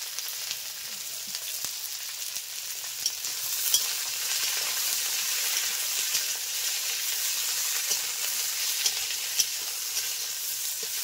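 Gentle, steady sizzling of taro stolons frying in oil with onion and garlic, with occasional soft pops and stirring clicks, no voices.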